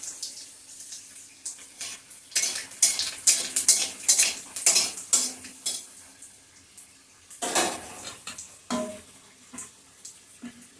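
Panch phoron and dried chillies go into hot oil in a pan while a spoon clatters and scrapes against metal in bursts, with faint frying hiss underneath.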